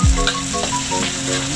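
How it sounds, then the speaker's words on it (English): Chilies stir-fried in a pan give a steady, close sizzle with a brief clatter of stirring at the start. "Then you add some of chilies to give it a spicy taste. And you continue to stir fry."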